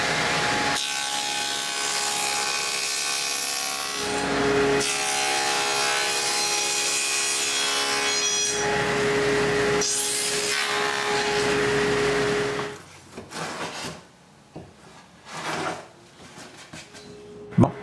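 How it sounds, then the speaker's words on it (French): A table saw fitted with a dado blade cuts notches in cedar for a patio table. The cut is a loud, sustained, close-up roaring whine for about twelve seconds, followed by lighter clatter and rubbing of the wood as it is handled. "j'ajuste la hauteur de ma lame d'ado et j'enlève ce qui est en trop"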